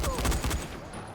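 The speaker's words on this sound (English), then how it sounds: "I'm gonna pull out my gun. And I'm just gonna shoot you." A quick burst of rapid gunshots from the video game Dying Light, several loud close cracks in fast succession that then trail off, with a voice faintly present.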